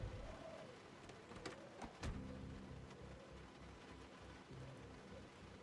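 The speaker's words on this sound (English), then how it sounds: "Oh, it's raining." Rain falling at midnight in the zombie survival game Project Zomboid, a faint, steady hiss of rain on surfaces with a few sharp louder taps and a low rumbling hum beneath.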